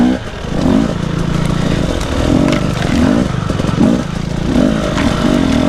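An enduro motorcycle climbs uphill off-road, its engine loud and close with a steady droning growl that swells and revs in repeated surges, with some clatter and no talk.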